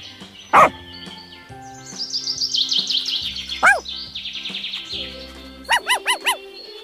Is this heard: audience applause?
no